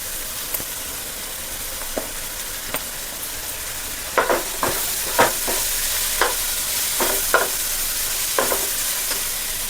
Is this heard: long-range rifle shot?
no